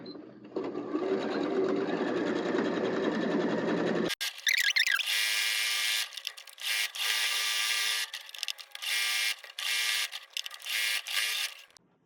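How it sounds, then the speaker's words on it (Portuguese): A sewing machine stitches a fabric book cover, starting with a continuous hum and then running in loud, fast bursts with brief stops between them, with no talking. "eu vou começar a costurar um pouquinho antes da minha aba ali, pra gente costurar, fazer o retrocesso"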